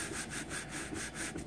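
Copper-bottom cookware with baked-on spots is scrubbed by hand with Penny Brite cleaner, giving rapid rhythmic back-and-forth rubbing strokes, close and fairly quiet, with no speech.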